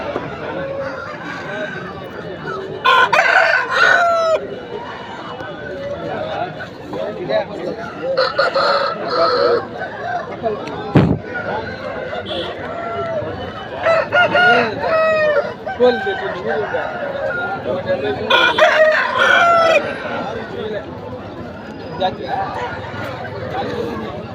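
At the Peeleru market, a Kakideka rooster with black legs and eyes, 2.5 kg, crows several times close by. Other fowl cluck, and someone speaks throughout amid market chatter.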